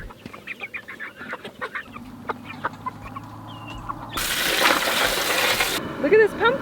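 Freedom Ranger chickens clucking in a backyard flock, a busy stream of short clucks and calls close by, with a burst of broadband noise partway through.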